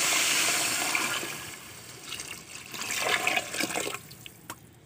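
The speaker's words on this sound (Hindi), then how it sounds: "अब इसमें पानी डालेंगे तकरीबन 4 किलो" About four kilos of water pours into a pot of browned chicken, a loud rushing splash that gradually eases into uneven trickling and a few final drips.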